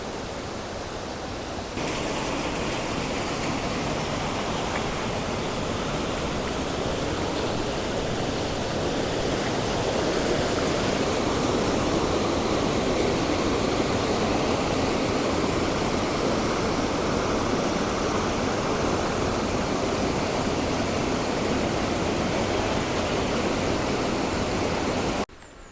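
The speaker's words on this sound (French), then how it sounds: "So this is a water mill," A water mill on the Portuguese Way to Santiago, its flowing water rushing as a steady, loud broadband roar for over twenty seconds with no speech.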